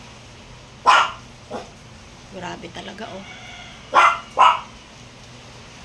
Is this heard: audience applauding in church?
no